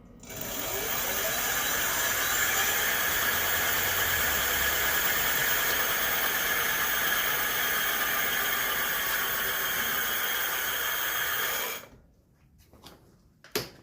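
A 1500-watt rear hub motor on a 26×4 fat tire electric bike spins up with a rising whine and holds a steady, fairly loud hum for about twelve seconds before cutting off, followed by faint handling noises.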